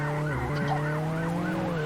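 Wailing ambulance siren in the Roblox Jailbreak video game, a loud, steady rising-and-falling tone over a low engine hum.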